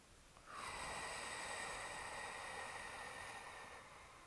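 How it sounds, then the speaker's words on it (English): A long, slow exhale of deep breathing during a hip internal rotation mobility exercise, a steady airy rush lasting about three seconds, close and fairly loud, with no talking. "Deep breaths again, 3 to 4 seconds in, 6 to 8 seconds out."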